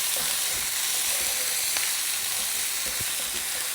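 Capsicum and green chili fry in a hot pan, giving a steady close sizzle throughout with occasional soft stirring knocks and no talking.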